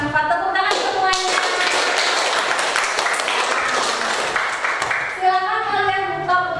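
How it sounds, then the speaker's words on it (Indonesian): Classroom of fourth-grade children clapping together in a dense, steady burst for several seconds, with voices and speech around the applause before and after. "Tepuk tangan semuanya."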